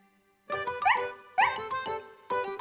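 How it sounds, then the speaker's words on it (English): A cartoon dog barks happily in short, bright, high-pitched yips, three quick bursts close up and clear, with no talking. "Said Snuffy, barking happily and wagging her tail."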